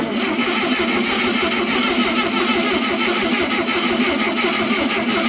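The engine of a 1970 Volkswagen Beetle with a variable-venturi carburetor cranks steadily for several seconds without catching. The starter churns in a fast, even rhythm, loud and close, with no other sound.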